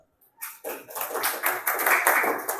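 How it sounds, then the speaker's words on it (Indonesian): Young schoolchildren in a grade 3 classroom clap their hands together in a dense burst of many overlapping claps, starting after a brief quiet moment and continuing steadily at close range. "Tepuk tangan dulu."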